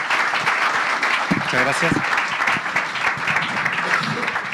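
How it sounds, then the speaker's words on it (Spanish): Audience applause at a health technology leaders' congress in Chile, steady and dense from start to finish, with a voice briefly speaking over it. "Les pedimos un aplauso para ellos, por favor."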